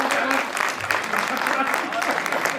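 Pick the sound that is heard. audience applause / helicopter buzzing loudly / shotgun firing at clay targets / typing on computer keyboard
audience applause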